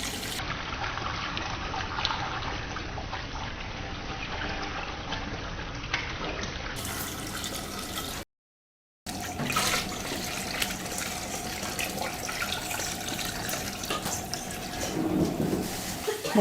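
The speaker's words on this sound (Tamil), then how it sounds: "இப்போ தண்ணி ஊற்றிக்கிறோம்." Water poured into a large pot of sautéed masala for an 8 kg chicken biryani, a steady trickling, splashing stream running on throughout with a short break midway.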